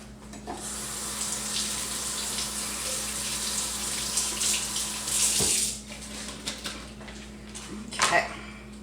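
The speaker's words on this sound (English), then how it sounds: "I think these onions might actually need another rinse" Tap water runs into a kitchen sink as onions are rinsed, a steady close splashing with brief clinks and handling knocks toward the end.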